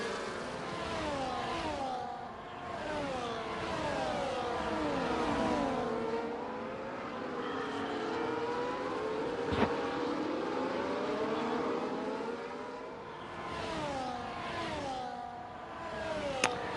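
Formula 1 cars racing around the Canadian Grand Prix circuit in the F1 24 video game, several engines whining and sweeping up and down in pitch as they pass, loud and continuous throughout, with no talk.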